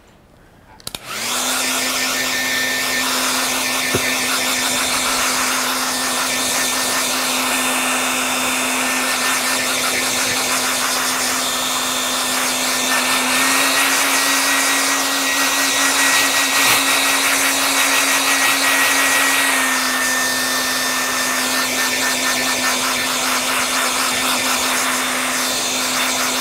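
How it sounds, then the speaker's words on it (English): A hair dryer switches on abruptly and blows in a loud, steady whir for the whole stretch, close by, drying paint on a clipboard, its pitch shifting slightly partway through. "I am just going to do a quick minute with the hairdryer."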